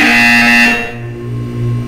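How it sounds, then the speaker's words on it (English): A loud, steady electronic buzzer tone from the test-chamber game Portal 2, sounding close and continuous for most of the clip before easing into a lower hum. "When you hear the buzzer, look down at the floor"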